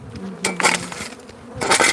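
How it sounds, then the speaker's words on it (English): Africanized bees swarming in a rock outcropping, buzzing in two loud close bursts that sweep past with a fainter drone between them, and no talk. "we're dealing with Africanized bees"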